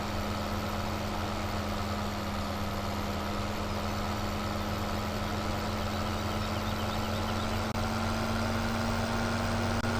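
A John Deere 9560 RT tracked tractor idles in Farming Simulator 17, a steady, continuous low diesel rumble with a constant hum, close and even in level, with no talk over it.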